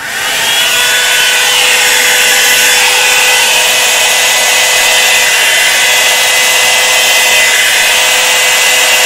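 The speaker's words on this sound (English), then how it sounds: "Grab my dryer." A hair dryer blows on an acrylic fluid-art paint pour made with Carbon Black paint and a cell activator, giving a loud, steady, unbroken whoosh close to the microphone that runs the whole time with no talking.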